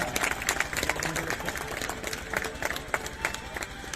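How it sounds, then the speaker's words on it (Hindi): An outdoor audience claps to welcome a guest at a road inauguration ceremony in a village near Sandila, with brisk, uneven clapping throughout and faint voices mixed underneath. "आपसे अनुरोध है जोरदार तालियों से स्वागत करें।"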